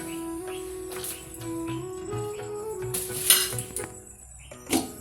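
Bottle gourd kootu being stirred in a pan with a metal spoon, giving light scraping and clinking knocks against the vessel at an unhurried pace, with a faint tonal hum behind.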